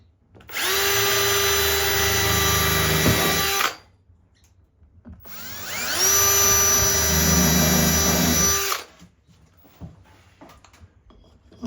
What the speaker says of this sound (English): Drill holes this time.